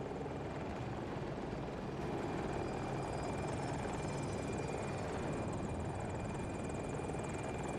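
Jet aircraft in a video game, a KA-520 Super Hokum helicopter battle on the Hourglass map, as a steady loud engine roar and rotor-like drone runs unbroken throughout.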